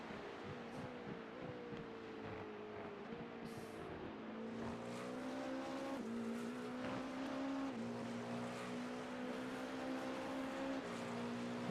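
Race cars lapping during a 24-hour practice session, including a Panda City car, with several engine notes rising and shifting in pitch as they pass, loud and continuous throughout.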